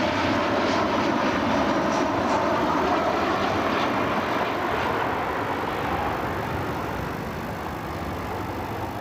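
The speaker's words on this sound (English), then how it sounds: "Here's Delta 2750. 737 inbound from Atlanta." A Delta Boeing 737 arriving inbound from Atlanta at Cleveland Hopkins airport produces a continuous, loud, broad jet engine roar that holds steady and eases slightly toward the end.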